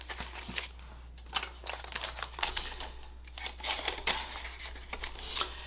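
Twenty-dollar bills are counted by hand into a grocery cash envelope, giving close, soft papery rustles and crisp flicks in an irregular run with no talking.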